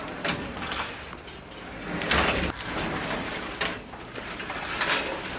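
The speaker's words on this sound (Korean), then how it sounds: "좌측 문을 열 경우에는 양문이 동시에 열리게끔 연결을 해놨습니다" A pair of linked greenhouse sliding doors rolls open together, giving a rumbling, rattling scrape with a few sharper clacks and bumps along the run, steady and moderately loud with no talking.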